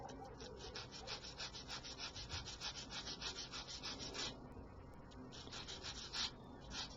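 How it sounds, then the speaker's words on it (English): A sander works steadily over car bodywork on a kit build after the front bumper comes off, giving a fast rhythmic rubbing and scratching hiss in quick repeated strokes, continuous and fairly close. "we're coming in with the sander, and we're just going to make sure that they're nice and smoothed off"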